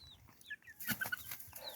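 Farm chickens cluck softly and briefly nearby, with a few sharper squawks mixed into quiet outdoor background.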